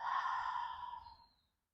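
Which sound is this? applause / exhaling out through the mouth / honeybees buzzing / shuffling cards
exhaling out through the mouth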